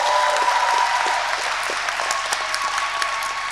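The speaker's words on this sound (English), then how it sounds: "Could we get a round of applause for my classmates," A commencement audience applauds the class of 2023 graduates at a Master of Fine Arts ceremony, steady crowd clapping with scattered individual claps, fairly loud and continuous.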